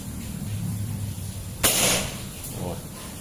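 A PCP air rifle fires a mini slug at a brick, making one brief sharp crack followed by a short burst of impact noise, with a fainter second pop just after, over a low background hum.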